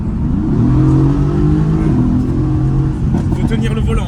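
A Mercedes-AMG GT engine accelerates hard, a loud, steady rising drone of close-up revving that continues for several seconds, with people talking over it.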